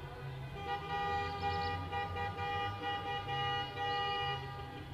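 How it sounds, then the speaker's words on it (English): Car horns honk continuously and overlapping in the street as drivers celebrate Germany's 4-0 World Cup football win over Portugal, a sustained blaring chorus at moderate distance with traffic underneath. "you can also like hear the horns of the cars that are just like driving around celebrating the victory"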